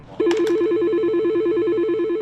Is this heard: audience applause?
no